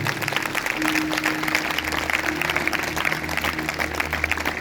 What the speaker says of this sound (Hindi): अगर आपको समझ में आए तो जोरदार तालियां बजाएं